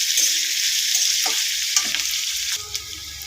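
Garlic and onion fry in a pan over a medium gas flame, a steady close sizzle broken by several scraping stirs.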